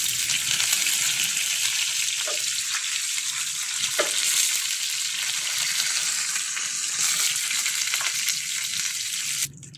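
Mustard seeds, cumin and green chillies sizzle in hot oil as a tempering for keerai paruppu, a loud, steady hiss with occasional pops and crackles that cuts off abruptly at the end.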